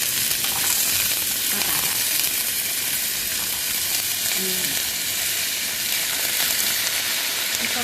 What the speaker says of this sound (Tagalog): Ipa-fry ko muna tong carrots at saka